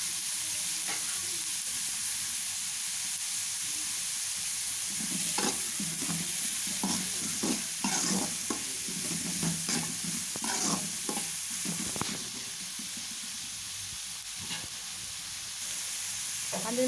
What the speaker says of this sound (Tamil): அஞ்சு நிமிஷம் நல்லா வெங்காயம் வதங்கி வரட்டும்